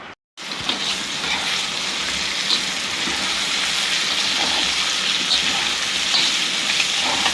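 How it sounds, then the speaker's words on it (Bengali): Potatoes for aloo dum fry in hot oil in a home kitchen during Rath Yatra puja cooking, giving a loud, continuous sizzle with faint crackles throughout. "আলুর দম হচ্ছে, আলুর দমের আলু ভাজছি।"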